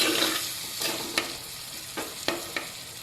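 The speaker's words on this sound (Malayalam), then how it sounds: "പുളിവെള്ളം ചേർത്ത് എല്ലാം ഒന്ന് ഇളക്കി മിക്സ് ചെയ്തെടുക്കാം" Close, steady sizzle of bitter gourd pickle in a pan as tamarind water is stirred in, with a few sharp scrapes and taps of the spoon against the pan and no voices.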